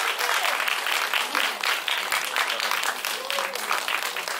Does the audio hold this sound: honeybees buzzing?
no